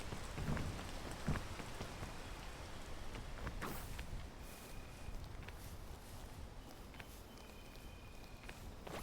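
Rain in the video game PEAK patters steadily on surfaces as a soft, constant wash, with occasional louder drops and faint thuds beneath it.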